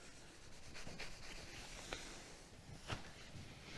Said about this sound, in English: clean bit of cloth just to give it a final wipe